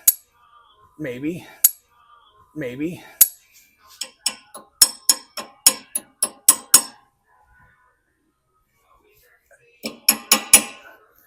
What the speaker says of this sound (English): I just take a little wrench